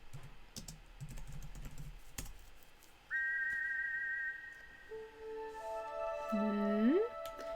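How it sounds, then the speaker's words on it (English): Silver whistle blown in King's Quest IV, preceded by keyboard typing and clicks, then a sustained, wavering synthesized whistle tone that rises into layered notes and holds to the end. "You put the shiny silver whistle to your lips and forcefully blow into it, producing a loud tweet."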